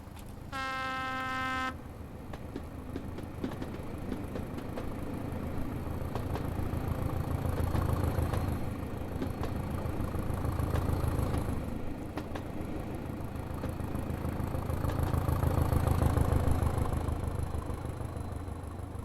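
A Class 205 diesel multiple unit on the Brighton Main Line in Train Simulator Classic gives a short, loud horn blast, then its diesel engine throbs steadily for a long stretch, swelling and easing in loudness.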